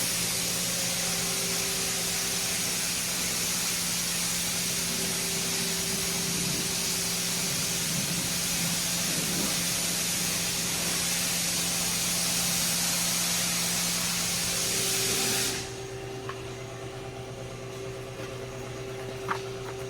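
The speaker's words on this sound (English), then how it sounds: "I'm going to step over and get my DA machine and I'm going to go over with some glaze" A dual action polisher with a finishing pad spreads glaze over a car headlight. Its steady, loud whirring hiss runs unbroken for about fifteen seconds, then cuts off into a quieter room.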